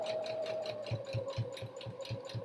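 A sewing machine back stitching on a pair of scrubs trousers, its needle thumping in a quick, even rhythm with a faint motor whine underneath, close and moderately quiet.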